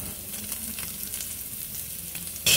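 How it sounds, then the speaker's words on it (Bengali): Potatoes frying in a pan with Kashmiri red chili powder, giving a continuous close sizzle with faint stirring, ending in a brief louder burst of spattering hiss. "কাশ্মীরি লাল লঙ্কার গুঁড়ো দিয়ে আলুটা ভাজতে থাকবো"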